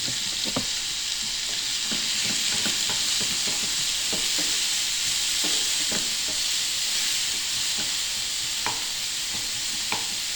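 Finely chopped onion fries in about half a tablespoon of oil for an egg omelette, giving a steady, close sizzle with scattered crackles and pops throughout, and no one speaking.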